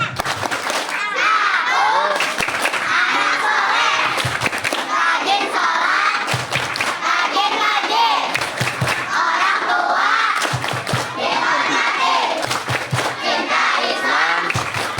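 A group of children at a Ramadan religious gathering performs a rhythmic clapping chant, with bursts of sharp hand claps punctuating loud, close, shouted sing-song voices in a repeating pattern.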